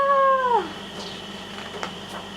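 A cat sound effect during a storybook reading of Winnie the Witch: one loud, clear meow lasting about half a second, fading into a faint room tone with a few soft taps.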